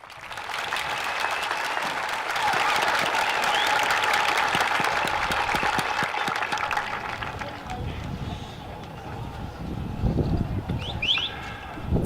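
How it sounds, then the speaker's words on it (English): A large crowd at a high school graduation ceremony applauds in a loud, sustained roar of clapping that gradually tapers off, with a few cheers and a voice returning near the end. "Please give these outstanding educators a round of applause."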